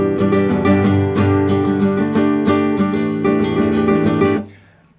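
A song is strummed loudly on a nylon-string classical guitar in steady rhythmic chords, then the last chord is cut off and rings down to near silence.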